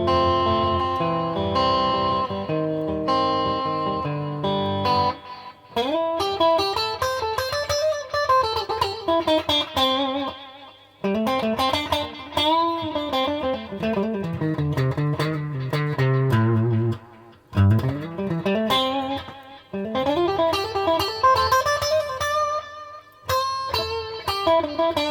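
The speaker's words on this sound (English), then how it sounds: "I quite like echo and repeat together." An electric guitar played through a WEM Copicat tape delay with echo and repeat, phrases trailing into repeating echoes that pause and resume over a sustained run.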